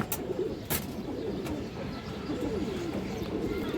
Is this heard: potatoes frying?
no